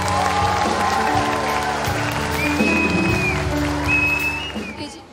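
A crowd claps steadily at a 2018 fifth-grade graduation ceremony at Escola Batista, dense and sustained for about five seconds, with sustained musical tones underneath and a slight fade at the end.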